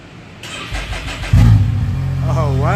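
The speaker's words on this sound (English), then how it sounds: "cold start on E85" A Can-Am X3 side-by-side running E85 fuel cold-starts with a cranking build-up, then catches with a loud, abrupt roar and settles into a rough, high idle, close by, while a person speaks over it.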